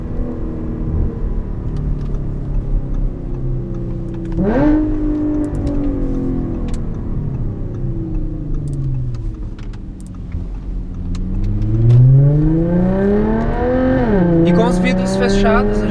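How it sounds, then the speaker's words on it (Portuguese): Audi A7 3.0 V6T fitted with an Armytrix valvetronic exhaust, remapped by APR, revving repeatedly with a deep rising and falling drone that swells near the end; a voice talks over the engine throughout. "a gente consegue escutar o escape ainda"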